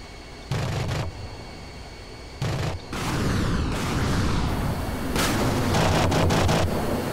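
Aircraft weapons fire in the DCS flight simulator on an MB-339 jet, a series of loud rumbling bursts and booms over continuous engine noise, with several overlapping blasts toward the end.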